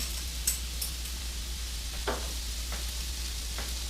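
Minced garlic sizzles in melted butter in a pot, a steady close hiss throughout with a few faint light clinks.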